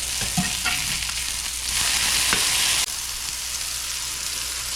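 Smash burgers sizzle loudly on a hot griddle, a dense continuous hiss with a brief surge and a few spatula taps, close up with no talking.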